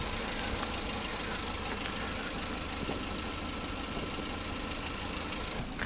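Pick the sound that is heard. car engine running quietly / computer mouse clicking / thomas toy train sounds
car engine running quietly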